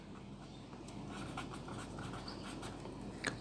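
A pen scratches across paper while writing out a math problem, faint and close, a soft continuous scribble over a low room hum.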